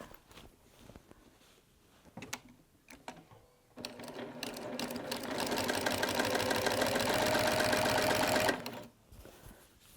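Sewing machine stitching through a quilted pouch project, starting after scattered handling clicks and running steadily for several seconds before stopping, close and fairly loud.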